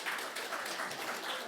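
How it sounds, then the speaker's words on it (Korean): A church congregation claps during a Sunday worship service, giving a dense, steady patter of many hands that sounds moderately distant and fairly soft throughout. "우리 팀장님 나오실 때 다시 한번 박수 한번 보내주시겠습니다."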